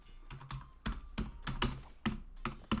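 Computer keyboard keys pressed in an irregular series of about a dozen sharp, close clicks and clacks, some in quick pairs, quiet and with no speech.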